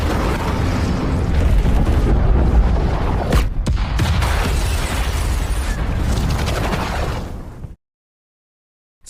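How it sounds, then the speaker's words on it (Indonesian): An air strike explosion in a film roars as a loud, sustained rumbling blast with sharp cracks partway through, then cuts abruptly to silence near the end. "serangan udara langsung meledakkan semuanya, termasuk terowongan yang sebelumnya mereka lewati"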